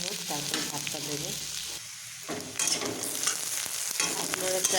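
Onion, egg and red and green chillies fry in a pan for fried rice, a steady close sizzle broken by scraping stirs of a spatula, with no voices.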